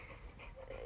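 A pit bull pants steadily and close by, soft rapid breaths continuing for about a second over a low background hum.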